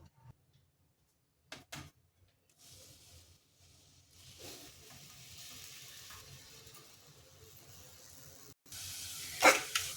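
Grated raw mango goes into tempering oil, which sizzles and hisses steadily in a pan after a few clanks, then bursts into a louder, crackling sizzle near the end.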